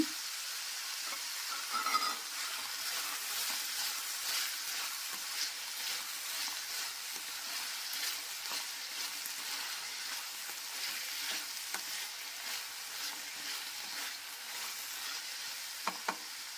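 Bottle gourd curry sizzles and fries in a pan as salt is stirred in, a steady close hiss broken by small scraping stirs and a few sharp clinks near the end.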